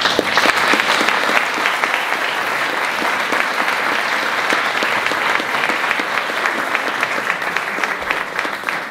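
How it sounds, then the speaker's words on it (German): An audience claps warmly at a school's cultural evening for twelfth-grade classes, the applause dense, even and sustained for several seconds before tapering slightly at the end. "Einen großen Applaus."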